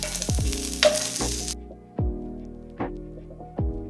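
Garlic and onion stir-fried in a pan after bacon has been cooked out, with sharp sizzling bursts at the start and then a few separate utensil scrapes and clinks over a softer hiss, close and alone.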